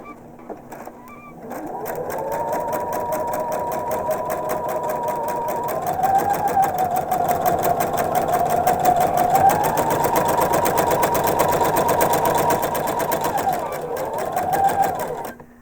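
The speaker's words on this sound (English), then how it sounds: "we're going to start off the edge and stitch right on that line" A longarm quilting sewing machine stitching along a line on a foundation paper pieced block, a loud close whirring hum of rapid needle strokes that starts up, runs steadily with slight speed changes, then stops.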